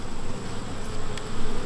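Honey bees hum steadily around a comb frame lifted from a hive at an apiary, a dense continuous buzz close by with no talking.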